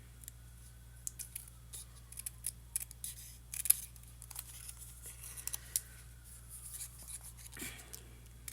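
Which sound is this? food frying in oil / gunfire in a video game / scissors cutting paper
scissors cutting paper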